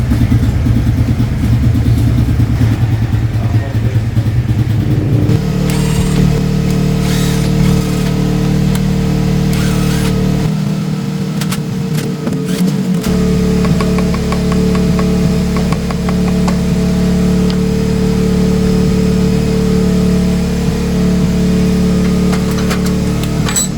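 A Suzuki Raider 125 motorcycle engine runs after an engine rebuild, a close, steady idling hum with a slight vibration that shifts to a higher, harsher drone a few seconds in and holds there.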